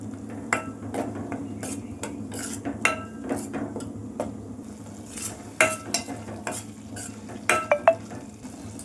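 Beans curry with tomato paste and turmeric being mixed in a pan, sharp clanks and scrapes of a metal spoon against the pan over a low simmering hiss, irregular and close, no speech.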